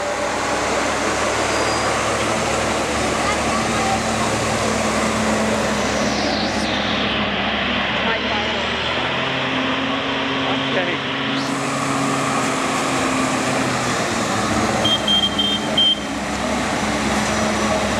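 A road grader rumbles along a sandy, rocky road, a loud continuous engine drone whose pitch shifts as it passes, with speech heard over it.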